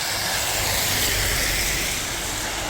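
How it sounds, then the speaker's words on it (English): A truck passing close by makes a steady, loud roar of broadband road and tyre noise with a hissy edge, filling the whole moment without a break. "Oh, what's this? We've got a truck."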